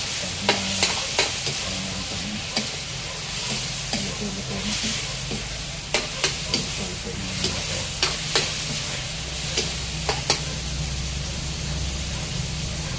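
Chicken meat fries in oil for tinola, a steady close sizzle broken by frequent sharp scraping clicks of stirring, with no voices.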